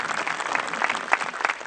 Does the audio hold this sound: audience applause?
yes